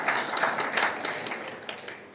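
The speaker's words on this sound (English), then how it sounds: "Let's clap for them" Audience applause at a strategic plan launch event, a steady wash of many hands clapping throughout, fairly distant and moderately loud with no clear talk over it.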